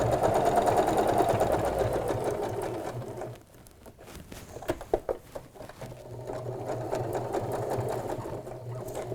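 A sewing machine stitches a seam on a fabric sleepover bag, running steadily, pausing briefly with a few clicks and taps, then resuming its fast even whirr.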